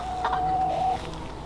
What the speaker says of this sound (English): The chickens are doing well.